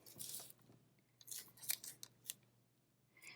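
Scissors snip away the extra paper and tape on a handmade Philippine banig mat craft. The cuts are quiet and close, in a few irregular bursts.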